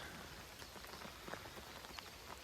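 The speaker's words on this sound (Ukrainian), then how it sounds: "Дощик." Steady light rain pattering on a surface outdoors in nature at a fishing spot, a soft continuous hiss dotted with faint individual drops.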